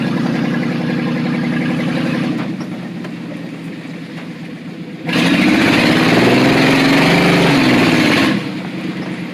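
An old truck's engine runs loud and rough, rising sharply to a harsher, louder roar partway through before easing back, with no talk over it.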